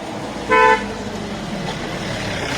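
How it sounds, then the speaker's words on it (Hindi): A vehicle approaching on a mountain road between Triyuginarayan and Sonprayag gives one short, loud horn toot over steady engine and road rumble, with the motor continuing after the honk. "तो एक गाड़ी आ रही है"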